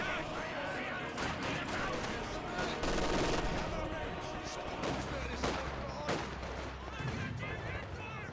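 Gunfire in Company of Heroes 2, with rapid bursts of rifle and machine-gun shots and heavier artillery-like thuds across a busy battlefield, heard under a voice talking over the action.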